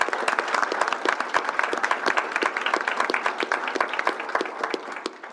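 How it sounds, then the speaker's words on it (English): A room claps for award recipients at a University of Nebraska Board of Regents meeting, a dense, steady round of applause from many hands lasting several seconds, fairly close and clear. "Let's give everybody one more round of applause."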